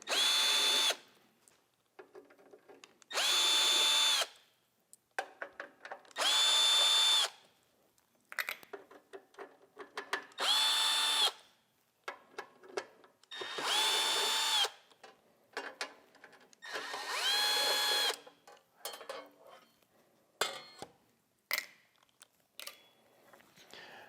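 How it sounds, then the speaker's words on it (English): A power driver removes guard screws from a MAG-8200 lawn mower blade sharpener. It gives about seven loud, close whirring bursts of a few seconds each, separated by quiet gaps with small handling clicks. "you can either use a 5/16 wrench or driver, and we'll take"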